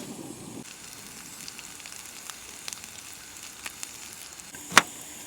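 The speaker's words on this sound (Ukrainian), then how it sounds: "у нас там уже смажиться наш бекон, картопля" Steady, quiet sizzling of bacon and potatoes frying in a pan, with a few light clicks and one sharp clatter near the end.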